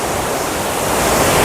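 Cold water streams down a hill stream in the Baba Budangiri hills of Chikmagalur, a loud, close, continuous rushing roar that builds slightly, with no voices.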